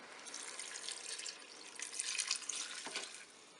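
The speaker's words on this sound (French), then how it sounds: "Et puis maintenant, je vais verser mon bouillon" Broth being poured into a Cookeo electric pressure cooker over cabbage for homemade sauerkraut, a steady splashing liquid stream that swells midway and tapers off near the end, with no talking.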